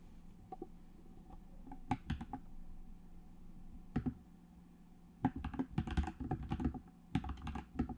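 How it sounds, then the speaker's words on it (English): Quick, clacky keystrokes on a mechanical computer keyboard come in irregular bursts and short runs, separated by quiet gaps, close up and fairly soft. "it's still clacky, but it's a mechanical keyboard and it sounds really nice"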